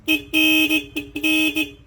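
Seger 50F horn fitted to a Honda Winner-X motorcycle, blared close and loud in four short bursts in an uneven honk pattern, with a steady idling engine underneath.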